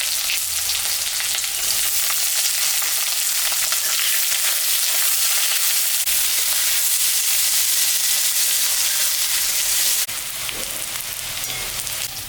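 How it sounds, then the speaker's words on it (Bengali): Onions and potatoes fry together in oil in a pan, a loud steady sizzle held close throughout, shifting slightly as the food is stirred, with no one speaking. "এখন আমি পেঁয়াজটা দিয়ে দিলাম।"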